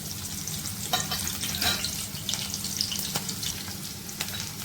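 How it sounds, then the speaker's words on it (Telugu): Onions, mustard seeds and cumin crackle and sizzle in hot oil as the tempering for a drumstick leaves fry, a steady close hiss with a few sharper pops and light stirring clinks. "జీలకర్ర, పోపు గింజలు వేసుకున్నాం"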